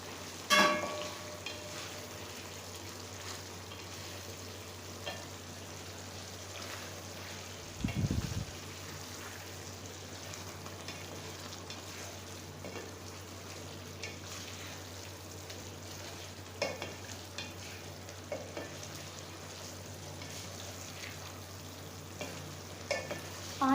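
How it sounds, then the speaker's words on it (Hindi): Chicken frying with masala in a Shinwari-style karahi gives a low, steady sizzle with occasional stirring scrapes and a brief louder clatter, continuous and fairly quiet throughout. "चिकन हम अब ऐड कर रहे हैं।"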